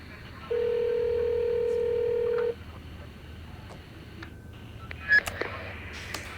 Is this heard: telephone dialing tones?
yes